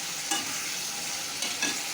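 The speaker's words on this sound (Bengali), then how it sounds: "এতে এবার আমি একটু পোস্ত ছিটিয়ে দিয়ে একটু নেড়ে নেবো, দিয়ে নাড়িয়ে দেবো।" Soft, cooked ridge gourd is stirred in a frying pan, with a steady low sizzle and a couple of brief scraping strokes of the spatula, close and alone.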